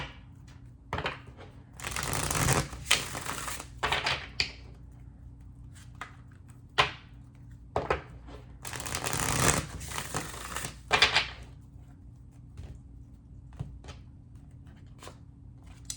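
Oracle cards being shuffled in a quiet room, with two longer bursts of riffling and scattered soft taps and card slaps between them, close and fairly faint.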